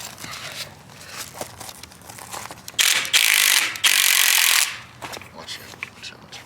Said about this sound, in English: The 21 millimeter socket, you're gonna unscrew this.